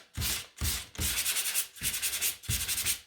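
Hand sanding of a wooden sign held in a template: five distinct rasping strokes with short pauses between them, close and fairly loud, with no talking.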